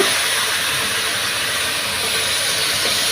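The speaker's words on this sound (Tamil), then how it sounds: "இப்போ தக்காளி சேர்த்துருங்க" Tomatoes go into a hot pan for paneer biryani, and a loud, even, close hissing sizzle runs without a break through the whole stretch, with no talk.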